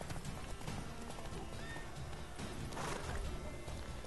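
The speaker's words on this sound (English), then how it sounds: "Wild horses." Wild horses gallop in The Witcher 3: Wild Hunt, a steady run of hoofbeats with thuds and clatter, close and fairly loud, over game ambience.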